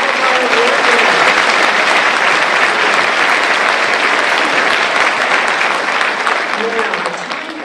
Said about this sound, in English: Round of applause and congratulations to all of our award winners.